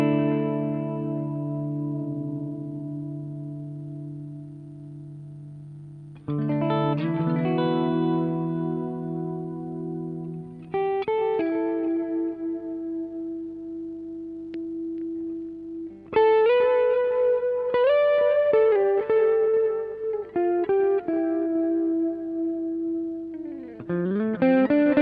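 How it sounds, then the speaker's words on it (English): Electric guitar through a Way Huge Echo Puss analog delay pedal with modulation, sustained chords and single notes trailing into wavering, repeating echoes, with no voice over it. "the first delay, which is a way huge Echo Puss, which is an analog delay with modulation."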